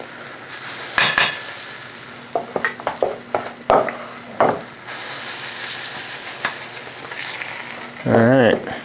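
Batter cooks in a seasoned cast iron pan with a soft, steady sizzle, broken by several clinks and scrapes of a utensil and a brief louder hiss near the end. No one speaks.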